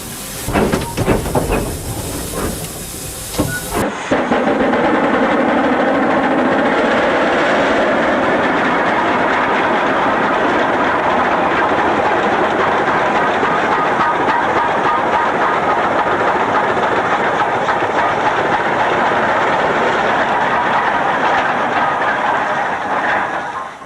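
Steam locomotive 6024 working hard close by on the Severn Valley Railway, with a loud, steady roar of steam and exhaust and a rumbling chuff carrying on throughout.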